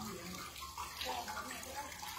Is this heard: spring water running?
yes